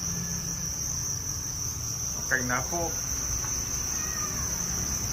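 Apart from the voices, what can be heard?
crickets chirping in a cricket-farming box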